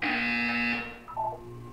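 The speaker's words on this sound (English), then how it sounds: "You will hear a buzzer." A buzzer from the video game Portal 2 sounds once, a loud, harsh electronic tone lasting under a second before cutting off, followed by quieter game tones.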